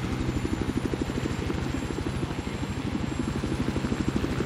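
A Little Bird light helicopter in the Battlefield 4 video game, its rotor beating in a steady fast chop over a loud engine whine, continuous and close with no talk.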